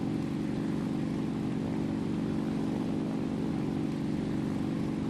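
Bomber aircraft piston engine running steadily at 85% power in a flight simulator, a loud, continuous droning hum with a low throbbing tone and no pauses.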